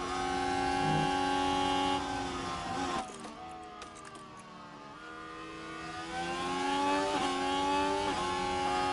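F1 cars race side by side at Catalunya in the F1 Manager 24 video game, their engines whining high and steady, fading briefly mid-clip and then swelling again as they accelerate.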